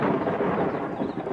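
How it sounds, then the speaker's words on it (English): Rumbling thunder from a summer storm rolling over cliffs, a steady broad roar that stays loud and sustained throughout with no voices. "Thunderstorms."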